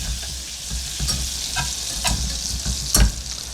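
Butter sizzles steadily as it melts in a hot pan on the stove, a continuous crackling hiss with scattered louder pops and a few clinks, close up and without any talking.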